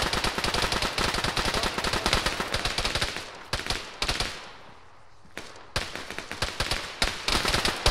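Video game gunfire crackles in rapid automatic bursts and single cracks, loud and close, dropping to a brief lull near the middle before the shooting resumes just as densely, with no voices.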